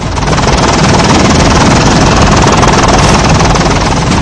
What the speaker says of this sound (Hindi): वैसे ही हेलीकॉप्टर एक बार फिर से आसमान में ऊंचाई की ओर उड़ने लगता है।